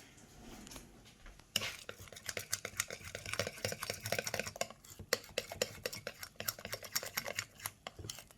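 A spoon or whisk stirs cinnamon maple pancake batter in a bowl with quick, uneven clinks and taps close by. A faint voice can be heard at the start.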